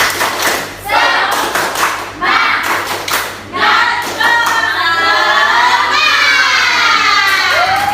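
A fourth-grade class performs a rhythmic spirit clap in bursts, with sharp patterns of claps and thumps broken by short pauses, then children cheering and shouting in unison toward the end.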